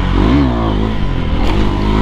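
A KTM Duke 390 motorcycle revs hard during a street wheelie, its engine note rising and falling in short bursts. The sound is loud and close, with no talking.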